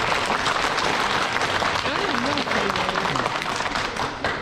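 Crowd applause from a museum audience fills the clip, broad and continuous, with a voice briefly audible over the clapping midway.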